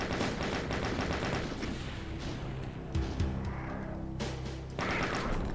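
A chain gun fires in Doom in a rapid, continuous stream of shots. A deeper rumble and a short pause break in near the middle, then the firing resumes, loud and close.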